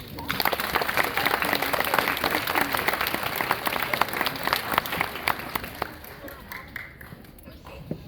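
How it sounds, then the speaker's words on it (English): A crowd at a graduation ceremony applauds with sustained, dense clapping that gradually thins out and fades toward the end. "I believe they deserve a round of applause too."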